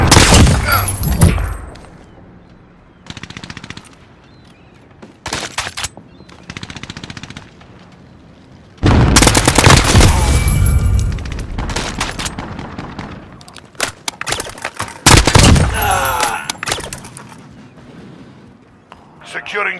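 Video game combat with bursts of automatic gunfire and heavy grenade blasts in loud clusters, separated by quieter gaps, with voices calling out over the shooting.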